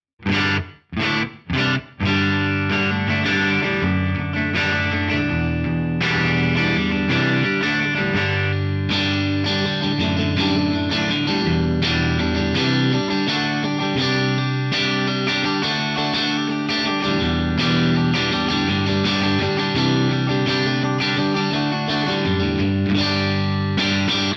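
An electric guitar plays through a Headrush Flex Prime with distortion, a few sharp strummed stabs followed by sustained chords ringing out with a faint wash of 1-second reverb at 20% mix.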